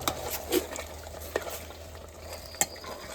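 A utensil scrapes and knocks against a frying pan as prawns are stirred for prawn rice, a few distinct clinks over a soft background sizzle.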